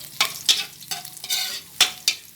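Garlic frying and being stirred in a pan, with soft sizzling and scraping bursts at an uneven rhythm, close and alone.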